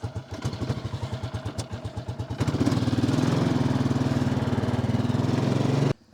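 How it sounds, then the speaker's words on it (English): Small tractor engine pulling a trailer, first chugging in a fast regular idle, then rising to a louder steady running drone close by before cutting off abruptly. "Get this tractor and trailer out of the way."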